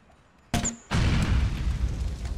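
A grenade explodes in Grand Theft Auto IV: a sharp blast, a brief gap, then a loud, sustained rumbling roar of debris that fills the rest of the moment, with no talk over it.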